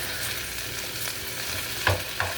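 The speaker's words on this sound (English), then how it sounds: "we're just getting a little bit of a saute" Pizza toppings sautéing in a pan give a steady, close sizzle, with a couple of brief stirring knocks near the end and no talking.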